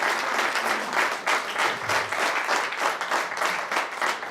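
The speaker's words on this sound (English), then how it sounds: "Big round of applause for Silvani." An audience applauds at a business chapter launch in Coimbatore, India, with sustained clapping that rises and falls in gentle waves at a moderate level.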